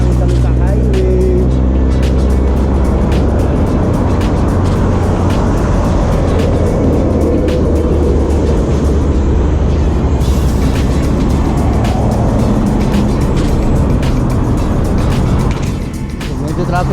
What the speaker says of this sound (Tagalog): Very nice sound coming. So another bike day.